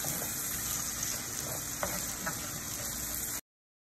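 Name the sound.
diced tomato frying in a pan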